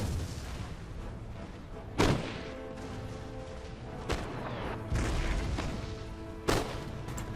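Musket volleys and artillery from a Napoleonic-era battle in Empire: Total War, with heavy booming shots landing every couple of seconds over a constant rumbling crackle of distant gunfire.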